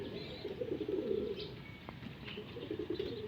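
Racing pigeons returning to the loft after a first toss, with a steady low cooing and scattered soft chirps nearby over a constant outdoor hum, no talking.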